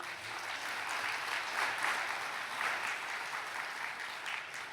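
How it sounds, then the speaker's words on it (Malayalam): A church congregation claps steadily at a Christian sermon, a dense, even wash of many hands that holds at the same loudness throughout. "ഒന്നുകൂടെ കൈയടിച്ചേ."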